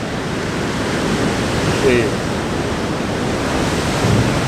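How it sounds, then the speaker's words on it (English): Ocean surf at high tide rolling in as a steady, loud wash of broken waves with wind buffeting the microphone, continuous and close, with a faint voice in the background. "those waves will get bigger if it's rougher"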